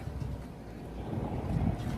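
Steady wind buffets the microphone with a low, rumbling roar, swelling slightly toward the end, with no voices.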